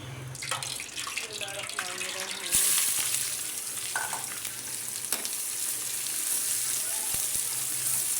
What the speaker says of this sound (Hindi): और घी मैंने डाल के अब मैं इसको मसाला भूनती हूँ।